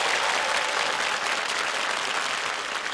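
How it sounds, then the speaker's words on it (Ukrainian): A studio audience at a television show applauds in a thick, even wash of clapping from many hands, loud and unbroken throughout. "Ваші оплески."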